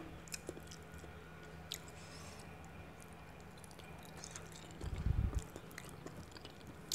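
Soft, close chewing while eating red snapper cooked in a sour-spicy sauce, faint wet mouth sounds with a brief louder squishy burst in the middle, no talking.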